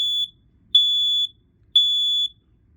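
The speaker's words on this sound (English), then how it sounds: "The way to test it is by pressing this test button, and it'll make 3 beeps." A smoke and fire alarm sounds three loud, high-pitched test beeps, each lasting about half a second, spaced evenly about a second apart, with near silence between them.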